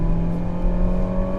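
A 2017 Peugeot 3008 with a 1.6 turbo engine rated at 165 horsepower pulls hard at full throttle, a steady, loud engine drone with a strong low hum, heard close and alone.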